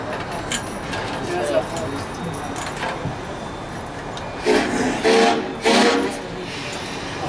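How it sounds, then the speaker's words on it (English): Three short toots of a steam locomotive whistle sound in a row near the end, loud and close, after a stretch of rumbling train noise on the Georgetown Loop Railroad. "Three toots on the whistle, that means we're underway going backwards."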